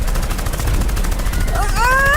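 Rapid automatic gunfire rattles in continuous bursts, loud and close, with a rising whistling tone cutting in near the end.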